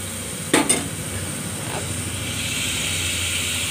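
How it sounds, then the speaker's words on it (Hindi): Masala paste with onion and salt fries in a pan for a black chickpea curry, giving a steady, close sizzling hiss throughout, with a couple of quick utensil clinks near the start. "इसमें हमने नमक डाल दिया, मसाला हमारा पक रहा है"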